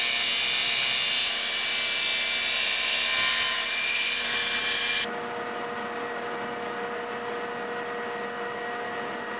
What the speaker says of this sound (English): I could run the base through the table saw and flush up both edges.